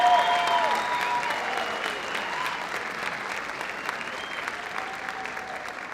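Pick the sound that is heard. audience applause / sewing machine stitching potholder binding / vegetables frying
audience applause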